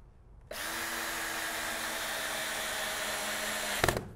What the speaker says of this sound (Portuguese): vou dar força nela para ver o quanto que esse parafuso vai entrar nesse tronco